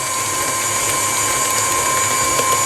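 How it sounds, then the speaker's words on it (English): An electric mixer beats eggs into frangipane almond cream, a loud, steady whirring motor hum with a high whine that runs unbroken throughout, with no voices. "Once that's mixed in, we add another egg, continue mixing"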